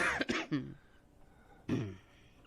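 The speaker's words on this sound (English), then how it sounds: "Keep that smoker's cough going." A rough, throaty cough burst up close, then a pause and a second harsh hacking bout, like a raspy smoker's cough.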